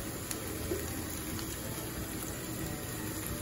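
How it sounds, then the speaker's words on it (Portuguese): Water poured into a pot of cooking rice gives a faint, steady stream and trickle under a broad background hiss, continuous with no talking. "Botar mais um pouquinho de água,"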